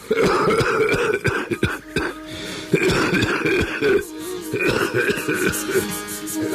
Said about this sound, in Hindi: कहते कहते उसे खांसी आ गई और वो देर तक खांसता रहा।